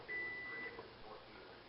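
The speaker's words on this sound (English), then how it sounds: "our timer has gone off." An oven timer goes off in a home kitchen while a roast beef cooks, giving a single faint, steady tone of about half a second over quiet room noise.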